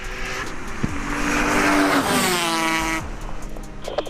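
A Toyota Supra with a 2JZ engine races an Aprilia RS 250 two-cylinder two-stroke motorbike: loud engines rise and fall in pitch as the car revs hard, with a brief tire squeal, then fade as they pass.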